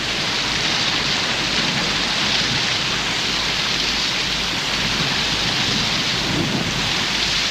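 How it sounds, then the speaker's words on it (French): Heavy rain from a tropical storm in the Amazon pours steadily with a dense hiss while low thunder rumbles underneath, continuous and loud with no voices. "Les tempêtes déversent ici des pluies bien plus abondantes que ne font les orages dans les régions tempérées"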